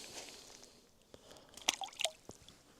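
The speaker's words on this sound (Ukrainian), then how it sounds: "от корм і кидаємо його в водичку" Groundbait for roach fishing on the Dniester lands in water with a few soft splashes and drips, faint and close, over quiet outdoor background.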